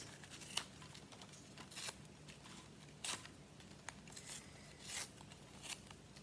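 Scrap craft paper being torn by hand, a series of short dry rips and crinkles at irregular intervals, close and fairly quiet with no talking.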